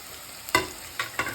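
Green chilli and curry leaves drop into hot frying oil for upma. The oil gives sharp crackling sizzles in three quick bursts, close and clear with no talking.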